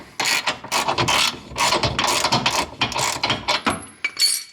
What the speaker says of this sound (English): I'm gonna go ahead and loosen up this this front bolt.